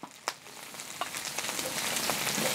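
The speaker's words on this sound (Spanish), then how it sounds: "En este otro sartén voy poniendo la cebolla y el ajo." Onion and garlic frying in a pan, a crackling sizzle that starts quiet with a few sharp pops and swells into a steady hiss.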